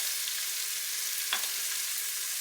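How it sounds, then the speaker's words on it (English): Vegetables seasoned with pink Himalayan salt saute in an Instant Pot for corn chowder, giving a steady, close, bright sizzle with a brief faint clink partway through and no voices. "Let that saute"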